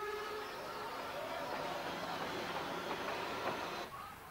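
Meter-gauge 0-4-4-0T Mallet steam tank locomotive on the Selketalbahn in the Harz, a continuous broad hissing rumble of the engine working, fairly steady and moderately distant.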